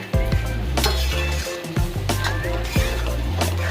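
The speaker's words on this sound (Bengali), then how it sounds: "জোরে আঁচ করে নেড়ে জলটা মেরে নিচ্ছি" Pumpkin greens are stirred briskly in a pan over high heat, a metal spatula scraping and clinking against the pan in repeated rhythmic strokes over a soft sizzle.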